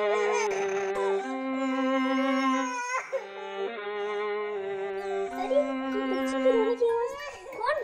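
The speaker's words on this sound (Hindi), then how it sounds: "कौन बच्चा रो रहा है?" A small girl cries loudly and continuously in a wailing, harmonic voice, with pitch rising and falling in sustained sobs, close and prominent throughout.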